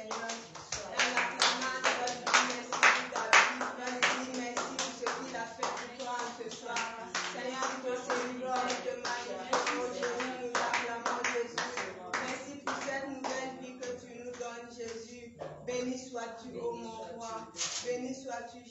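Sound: congregation clapping in praise

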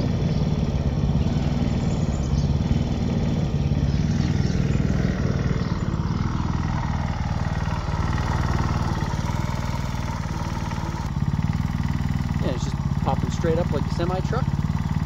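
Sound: Honda WX15 water pump engine running after quieting

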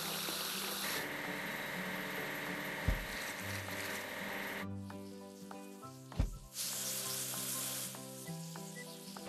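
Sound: washing switcher locomotive in kids' video game

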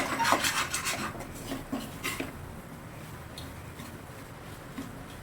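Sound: stirring fish puttu in a pan

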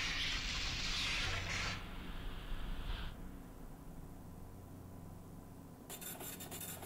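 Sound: ticket being printed in the video game Space Station 13

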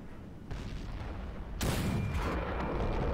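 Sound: tank cannon shot in a tank video game

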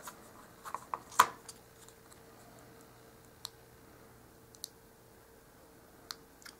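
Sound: scissors trimming miniature dog food packaging

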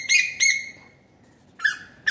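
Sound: bird calling

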